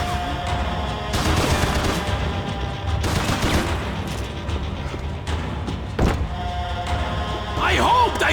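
Gunfire in Max Payne 3, a run of sharp shots and bursts over game background noise with a few louder cracks, while a voice talks intermittently.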